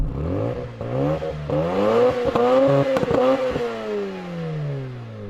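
A Mazda RX-7 FD 1.3-litre rotary engine revs repeatedly, rising and dropping in pitch with crackles and pops between blips, loud, close and bassy, no voices.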